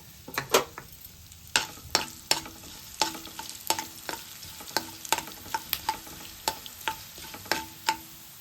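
Cumin and coriander seeds fry in a spoonful of oil while being stirred, with steady clinks of a spoon against the pan over a soft, close sizzle and no talking.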